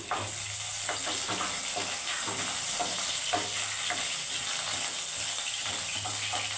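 Four green chillies frying in oil in a pan for a Bhola fish dish, a constant close sizzle with repeated scraping stirs of a spatula at an even rhythm throughout, no talking.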